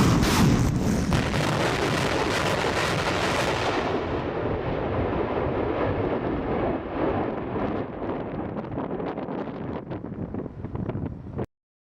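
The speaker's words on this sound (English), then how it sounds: "this is how the Russians use their thermobaric rocket launcher systems in conventional war" Russian thermobaric rocket launcher firing in combat, heard as a continuous rumbling roar of launches and explosions with wind buffeting the microphone, loud and sustained throughout before cutting off abruptly.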